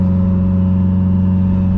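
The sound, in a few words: loud Subaru engine driving with exhaust dump open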